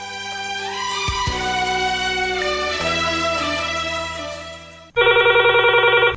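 A telephone ringtone chimes for a phone-in radio call, a loud, bright electronic melody of repeating tones that shifts pattern midway, then a sharper pulsing burst of ringing toward the end.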